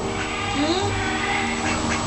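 A duck quacks in short, nasal calls mixed with a person's voice, close by over a steady background hum.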